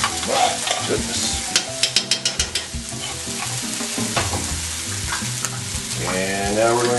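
Meat loaf sauce with cream of mushroom soup sizzles loudly in a hot pan while being stirred, with a steady crackling hiss broken by a run of sharp, rhythmic clatters from the stirring utensil.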